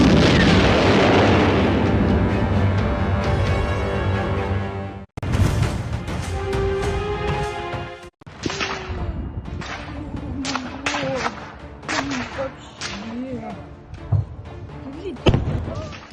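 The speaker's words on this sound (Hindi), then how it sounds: "किसी दिवाली के पटाखों की तरह यहाँ आतिशबाजी सी दिखती है, लेकिन ये एक मिसाइल हमला है।" A missile strike on a government building during the Russia-Ukraine war opens with a loud, sustained roaring blast. Sharp cracks and pops like fireworks follow in scattered bursts, some near and some farther off.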